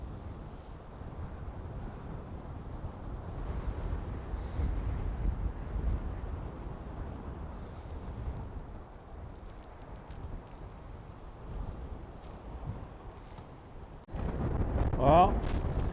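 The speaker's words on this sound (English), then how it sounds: "Most waves kick over the edge here" Stormy wind buffets the microphone while waves surge and break over the edge of a quay on an island, a steady low roar with a louder splash near the end.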